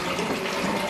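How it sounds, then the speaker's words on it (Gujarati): Spring water flowing at Mary's Well in Nazareth, Israel, a steady close-up wash of running, gushing water with no pauses. "તમે જોઈ શકો છો ઝરણું ચાલુ છે અત્યારે પણ."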